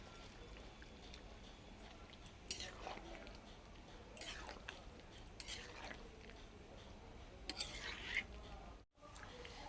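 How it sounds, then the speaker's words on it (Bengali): A spatula scrapes and stirs jackfruit and shrimp curry in a pan, with soft intermittent clinks and scraping strokes under a voice speaking nearby. "এই চটচট কাটা হয়ে যাচ্ছে খুন্তি দিয়ে"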